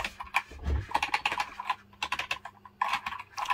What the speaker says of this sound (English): So now I will quickly type something on the keyboard and see how it feels.